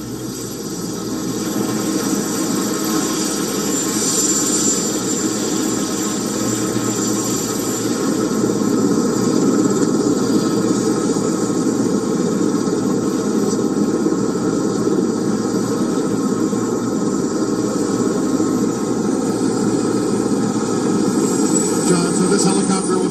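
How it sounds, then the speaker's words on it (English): Steady, loud engine roar with a broad rumbling drone that holds throughout, a nearby presidential helicopter powering up for takeoff to Joint Base Andrews, with faint voices underneath. "This helicopter will take off for Joint Base Andrews"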